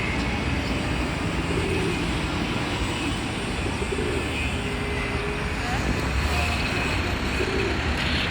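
Constant city traffic roar fills Madison Square Park in New York, a dense steady wash of vehicles with pigeons cooing nearby and faint distant aircraft, without pause throughout.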